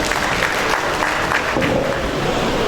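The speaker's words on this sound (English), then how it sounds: "Please a round of applause for him." Applause from a lecture audience welcoming an economics professor to speak, a steady dense wash of clapping throughout the short stretch with no speech over it.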